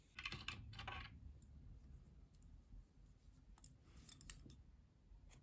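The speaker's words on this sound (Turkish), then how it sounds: "Kırmızı ipliği kesiyorum." Scissors snipping red yarn during crochet work: a few quick, faint close-up cuts in short bursts, separated by quiet handling pauses.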